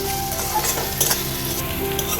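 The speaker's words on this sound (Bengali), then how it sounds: "পেঁয়াজটা ঠিক এই রকম ভাজা হবে মানে পুরো ভাজা না আবার হালকা ভাজাও থাকবে না" Chopped onion with salt frying in a pan, a steady close sizzle with soft stirring scrapes running throughout.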